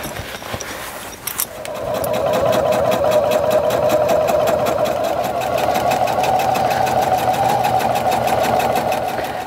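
A sewing machine runs at a fast steady stitching rhythm while sewing the flap onto the back outer panel of a messenger bag, starting after a brief clatter and then continuing close and loud without talk.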